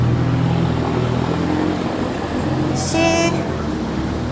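Dense street traffic on a busy city road, a constant loud roar of passing cars and buses with engine hum and a brief higher whine, with a single word spoken over it.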